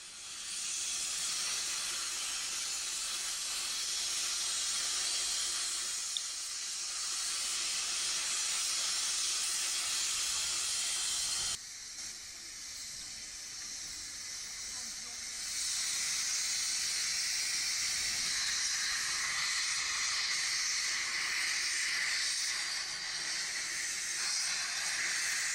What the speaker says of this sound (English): Plenty of steam and smoke about, isn't there?